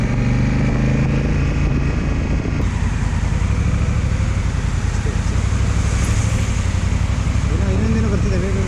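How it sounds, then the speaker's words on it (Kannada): A vehicle approaches along the fog-covered Charmadi Ghat mountain road, its engine and tire rumble building steadily and continuously behind the constant noise of a riding motorcycle, with someone talking at times. "ಎಸ್, ಗಾಡಿ ಬರ್ತಿದೆ, ಗಾಡಿ ಬರ್ತಿದೆ"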